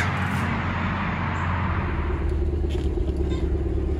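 A barn-find Fiat with a factory hard top pulls away, its engine giving a steady, close low rumble and road noise throughout, with a brief hiss near the start and light clatter.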